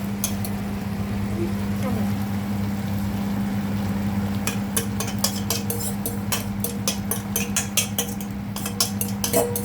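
Crab meat stir-fried in a pan for a curry-powder stir-fry as sauce is poured in, with a steady background hum and, in the second half, a run of sharp metallic clinks and scrapes from a utensil against the pan.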